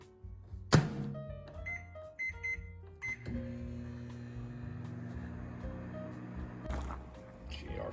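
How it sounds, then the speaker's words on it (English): A few short keypad beeps, then a microwave oven set to three minutes on high starts and runs with a steady low hum, with faint clinks and rustles nearby. "we're just going to microwave it for about, I'd say, 3 minutes on high"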